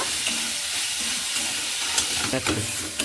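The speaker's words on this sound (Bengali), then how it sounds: "সেই মশলাতে আমি সয়াবিনগুলো দিয়ে দিচ্ছি সয়াবিনগুলো দিয়ে আমি একটু ভালো করে নেড়ে নেব" Soya chunks stirred into spice masala frying in a pan, a dense continuous sizzle and hiss with scraping spoon strokes growing more frequent toward the end, close and steady with no talking.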